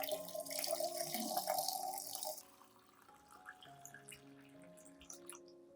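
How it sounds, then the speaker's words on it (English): Clean water poured to dilute a banana peel and jasmine tea solution, a bright splashing pour for about two seconds that then gives way to quiet trickles and scattered drips. "Add 1 liter of clean water to dilute the banana peel and jasmine tea solution."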